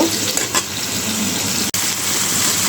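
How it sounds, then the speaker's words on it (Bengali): Papaya pieces stir-fried in a pan for a fish curry, giving a steady close sizzle with light scraping of stirring throughout and a brief break near the end; no one speaks. "পেঁপেটা কষানোর জন্য আমি পেঁপেটা ভালো করে কষিয়ে নিয়ে তারপরে জল দিয়ে মাছটা দিব"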